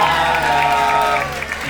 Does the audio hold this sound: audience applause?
yes